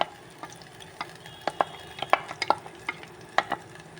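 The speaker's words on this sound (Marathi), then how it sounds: "तो हांव हितून घालता आनी मातसो भाजून घेता बरो" Moong masala frying in oil in a home village kitchen, a low sizzle under sharp, irregular clicks and scrapes of a spoon against the pan, close by with no talking.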